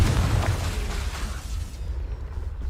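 A Confringo fire spell bursts in Hogwarts Legacy, a deep rumbling explosion with heavy low boom that rolls and slowly fades over a couple of seconds, loud and close, with no talking.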